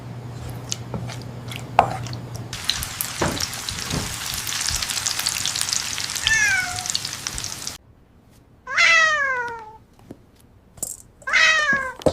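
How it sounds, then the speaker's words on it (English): A cat meows in a kitchen scene while food sizzles and fries in a pan, steady crackling frying giving way to several rising and falling meows near the end. "I told the AI to make a video of a cat cooking"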